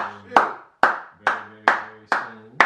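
Six sharp, evenly spaced hand claps from one person, close and distinct, each ringing briefly before the next, with a faint tonal hum beneath.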